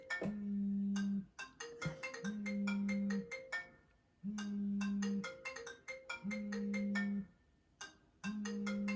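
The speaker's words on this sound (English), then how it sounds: "Sorry, just pause for a second because that's my phone." A mobile phone ringtone plays a repeating melodic pattern in bursts with short gaps, clear and moderately loud indoors, with no talk.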